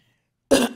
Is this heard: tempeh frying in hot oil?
no